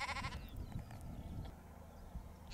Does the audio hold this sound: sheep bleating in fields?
yes